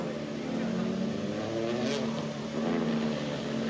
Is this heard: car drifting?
yes